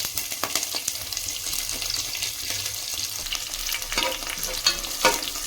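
Green chillies and curry leaves frying in hot oil in a pan make a steady, close sizzle with faint stirring scrapes, with no voices.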